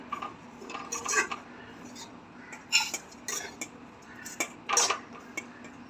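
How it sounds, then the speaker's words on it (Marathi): Roasted coconut, browned on medium heat, scooped out of a pan with a metal spoon: several clinking scrapes and taps against the pan in short bursts, close and fairly quiet, with no talk. "मी अशा प्रकारे खोबरा लालसर भाजून घेतलेला आहे आता काढून घेते"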